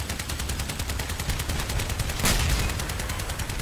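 Booming cannon shots fire in rapid succession in Crossout over a dense, noisy battle din, with one heavier blast standing out midway.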